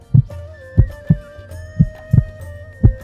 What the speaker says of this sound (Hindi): दिल जोर जोर से धड़कने लगा